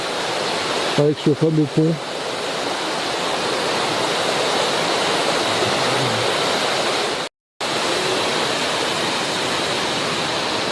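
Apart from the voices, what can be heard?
large waterfall in the Cirque de Saint-Même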